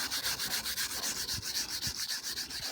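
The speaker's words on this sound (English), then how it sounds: "the steel brush in to get the rest of the rust off" A steel wire brush scrubs rust off a car body in quick, regular back-and-forth strokes, a rhythmic scratchy rasp repeating about every quarter second, fairly close and moderately quiet, with no voices.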